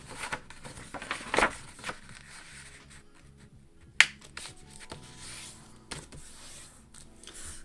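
A sheet of paper being folded into an origami heart, its corners and edges brought inward: soft, close rustling and creasing with a few sharp crackles and snaps, quiet and unhurried, with no talking.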